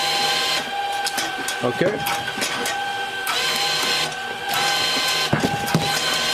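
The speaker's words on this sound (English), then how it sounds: "First we start the labeling part, and then the conveyor feeder, and then of course also the automated input feeder." A LAB510 labeller applies labels to cardboard cartons on a conveyor line with an automated input feeder, giving loud repeated mechanical whirring and clicking cycles with brief knocks between them, while someone briefly speaks.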